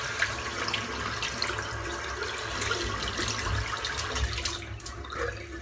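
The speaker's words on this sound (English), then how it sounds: "Just rinsing the brush out." Running tap water rinses a 24mm tuxedo knot shaving brush under a faucet, a steady broadband splashing rush that holds through the whole stretch without speech.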